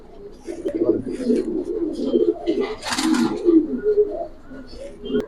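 Giribaz pigeons coo in low, throaty rolling bursts close by, a steady murmur with one brief sharper flutter or rustle partway through.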